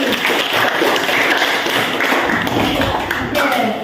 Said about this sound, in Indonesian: Berikan tepuk tangan dulu pada Apri.